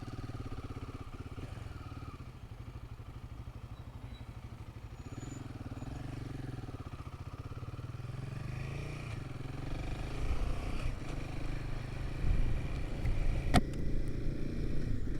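A Royal Enfield Himalayan 452 motorcycle being ridden gently while new, its engine a steady low drone with wind, rising slightly toward the end.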